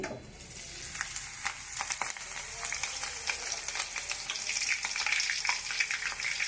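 Green chillies fry in hot oil in a pan, giving a steady, close sizzle with crackling pops that builds slightly over several seconds.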